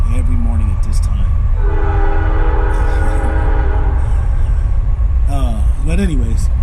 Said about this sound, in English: Here goes that train again. It comes every morning at this time.